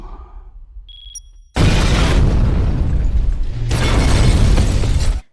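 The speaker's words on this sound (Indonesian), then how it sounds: "Don pun meledakkan bom tersebut." Bomb explosion in the film Don 2 (2011): after a quiet start with a brief mechanical beep, a sudden loud blast erupts into a sustained roar of debris and rumble, then swells again before cutting off.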